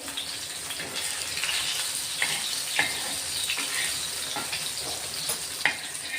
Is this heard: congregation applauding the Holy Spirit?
no